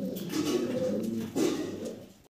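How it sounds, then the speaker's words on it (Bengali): A Gorra breed pigeon coos in two soft, throaty rolling phrases, close by, over a faint background hum. "চমৎকার গররা কবুতর, এটা কিন্তু কালারিং গোলাটোলাও না"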